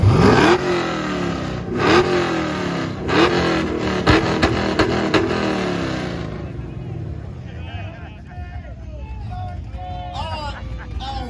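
Hellcat and Camaro cars revving hard in a loudest 2-step and exhaust battle, loud repeated throttle blips with popping bursts for about six seconds, then dropping to idle while a crowd whistles and talks.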